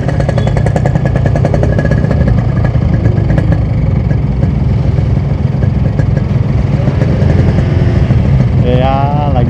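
A motorcycle engine drones loudly and steadily on a test ride, a constant close throbbing rumble with wind, while a rider speaks over it.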